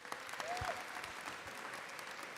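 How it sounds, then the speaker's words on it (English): Sparse, scattered clapping from a small audience, a few thin claps at a distance with a brief whistle near the start. "Scattering of applause."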